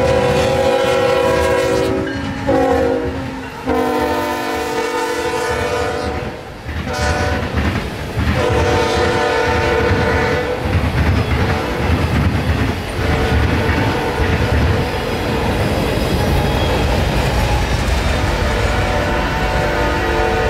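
A freight train hauled by two big GE locomotives rumbles past loudly and close, its horn sounding in long blasts early on over steady wheel clatter and engine drone that continue throughout.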